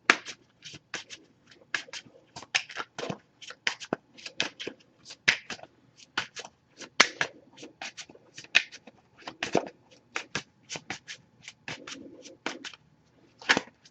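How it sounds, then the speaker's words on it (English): A Messages of Love oracle card deck is shuffled by hand during a tarot reading, giving a quick run of crisp, papery snaps and flicks in irregular bursts, close and alone without speech. "Just pulling a single card from this deck."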